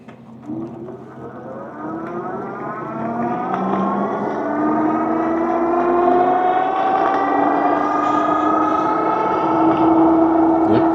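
An Engwe M20 2.0 52V e-bike rides under throttle alone, its electric hub motor giving a steady whine that rises in pitch as it speeds up, with wind and road noise building beneath.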